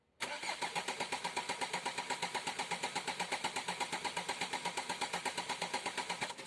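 A car engine cranks steadily on its starter for about five seconds, powered by a Bosch S5008 77Ah battery, with a fast, even chugging rhythm that never catches, loud and close.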